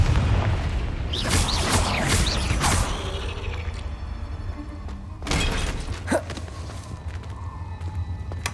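A Confringo fire spell blasts in Hogwarts Legacy, two loud crackling bursts with a short rumbling tail between them, set against steady background ambience.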